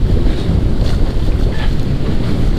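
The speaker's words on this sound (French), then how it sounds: "C'est pas forcément ce qu'il y a de plus agréable quand on a un vent comme ça qui est fort rafaleux." Strong gusty wind roars continuously into the microphone while kitesurfing on the sea, buffeting loudly with waves washing underneath.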